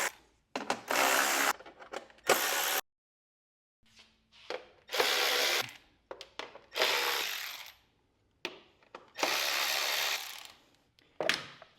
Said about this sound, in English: Then you need to put your 3/8 socket on. And you just have to loosen these up.